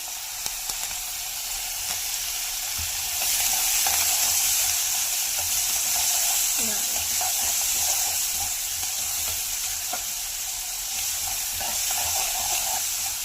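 Chilies and onion frying for avarekalu uppittu, a continuous loud sizzle and hiss from the pan with occasional light stirring clicks throughout.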